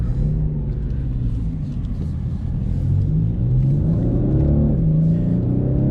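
A 2019 BMW 840d xDrive diesel revving hard in second gear in Sport Plus on winter tires, a loud, steady, rising engine roar with no talk over it.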